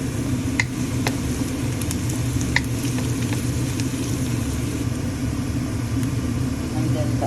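Garlic and onion sautéing in a pan, a steady, dense sizzle with a low rumble underneath and occasional small ticks and clinks. A voice speaks faintly in the background.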